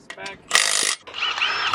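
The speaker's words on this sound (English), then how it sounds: "Getting the last bolt zipped on right now." A power tool zips a bolt onto a first-generation truck, in short whirring bursts of ratcheting and spinning, close and fairly loud, separated by brief pauses.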